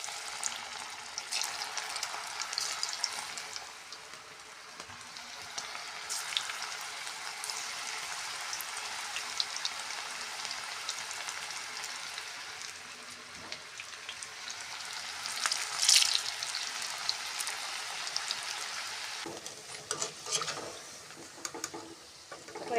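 Small pieces of batter-fried food frying in hot oil at home give off a continuous soft hiss and crackle, with a brief brighter sizzle spike midway and some stirring near the end, heard alone without talk.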